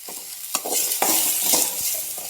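Tomatoes sizzle in a hot frying pan with a sprinkle of rock salt as a spoon stirs and scrapes through them, giving a steady crackling fry broken by a few knocks of the spoon against the pan.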